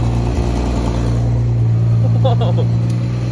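A V8 car engine runs with a deep, steady idle-like rumble, loud and close, while people talk briefly over it.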